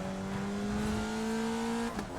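Race car engines from a racing video game hold a steady, sustained whine at a constant pitch, fairly loud, then briefly break off near the end.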